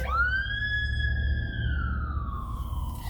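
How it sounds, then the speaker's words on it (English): A siren wails with a single long rising-then-falling tone over a low rumbling background, fairly loud and steady. "We have ambulance coming."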